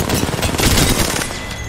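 Rapid automatic gunfire in PUBG, a dense, loud burst of overlapping shots lasting under two seconds, close and continuous.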